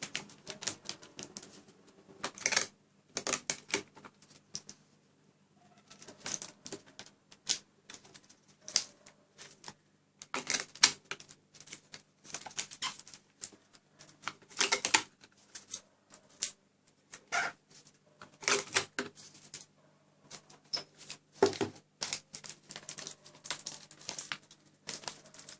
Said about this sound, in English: let's just continue taping this stuff because I don't want it to open up